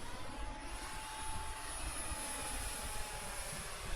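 Small RC Draken model airplane flying low overhead, a steady whining motor drone holding constant throughout with no voices.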